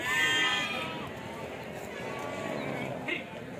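A sheep bleats loudly at the start, then a busy outdoor sheep and goat market crowd murmurs on, with more bleats and animal noise blending into the background chatter.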